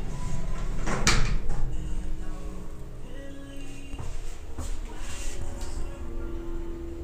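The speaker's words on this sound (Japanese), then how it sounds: "ドアが閉まります。" An elevator door slides shut in an underground connecting passage, a soft mechanical rumble with a thud partway through, heard close against a steady hum.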